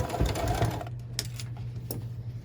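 Sewing machine back stitching along a pillowcase for a pincushion, a quick run of rapid mechanical needle ticks that stops after about a second, followed by a few faint isolated clicks over a low hum.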